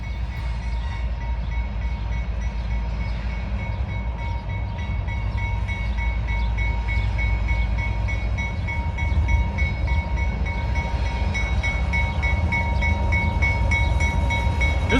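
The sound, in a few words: CSX freight train passing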